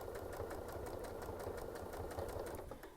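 Faint, steady rhythmic hum and needle pulsing as a sewing machine stitches through a quilt, running continuously throughout with no speech.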